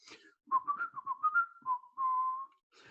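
A person whistles a short, lilting run of quick notes ending in one long held tone, clear and close in a quiet room.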